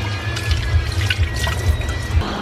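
Water boiling in a covered cooking pot with salt added, a steady low bubbling and gurgling churn with small pops and drips, close by and continuous, no talking.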